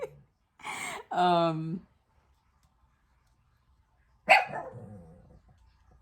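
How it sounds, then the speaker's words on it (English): A dog barks a few times nearby, then a pause and one more sharp bark trailing into a growly tail. "sorry about the barking."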